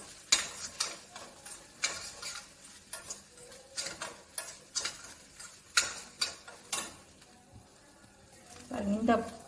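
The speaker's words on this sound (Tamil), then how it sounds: "இந்த நெய்யில் இந்த அவளை நல்லா வறுத்துட்டு" Poha (flattened rice) roasting in ghee, a metal spoon scraping and tapping the pan in a steady repeated rhythm with a light sizzle beneath, close and moderately loud.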